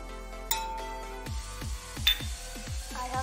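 A spoon clinks repeatedly against a glass while mixing masala lemon juice with jeera and rock salt, several close, bright metallic taps in an uneven rhythm.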